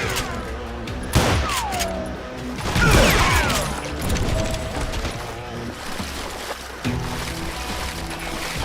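Gunfire in the Western shooter Call of Juarez: Gunslinger, with a few loud close shots and ricochet-like whines among game sounds and scattered voices.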